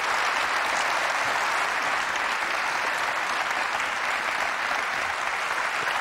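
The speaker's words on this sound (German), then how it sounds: "Ein Applaus wert." Studio audience applause on a German TV comedy show, a dense, even wash of clapping that stays loud and unbroken for about six seconds.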